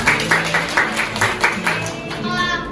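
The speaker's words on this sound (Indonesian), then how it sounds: "Kita tepuk tangan untuk diri kita semua." A classroom of students applauding themselves at the end of a lesson, irregular claps arriving in loose pulses over roughly three seconds, with faint voices mixed underneath.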